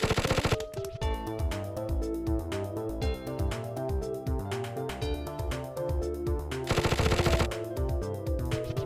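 In Plants vs. Zombies 2, a scorpion-tail machine gun plant fires loud, rapid bursts of shots against a horde of Jurassic zombies, the rattling volleys layered over pulsing game music and effects.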